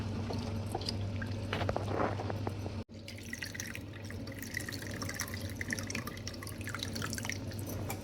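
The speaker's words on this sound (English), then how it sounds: "So I've soaked the tamarind for about half an hour and now I'm extracting the juice out of it." Soaked tamarind is squeezed by hand to extract its juice, making soft wet squishing and dripping over a steady low background hum, faint and close, with one brief gap.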